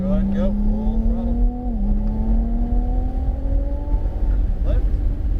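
A Ferrari 296 GTB sports car at full throttle on a racetrack. The engine sounds loud and close, rising in pitch, dropping briefly at a gear shift, then climbing again with a steady raspy drone.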